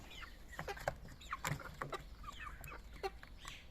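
Chickens kept in a backyard hen house cluck in short, scattered bursts, moderately close, with several birds calling over one another against a quiet outdoor background.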